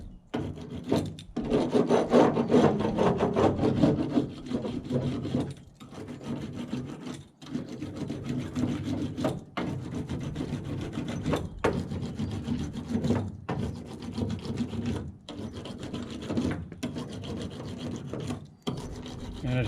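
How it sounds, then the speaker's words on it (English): A small fiberglass laminating roller rasps steadily over wet fiberglass layers on a C2 Corvette fender flare, a continuous close-up rubbing texture broken by brief pauses between strokes. "This is just a little fiberglass roller to kind of help put a little pressure on it and smooth it out."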